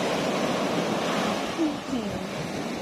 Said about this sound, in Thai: คลื่นแรงมากเลย คงจะลง เล่นไม่ได้้วเนาะเพราะว่ามันคลื่นแรงมากเลย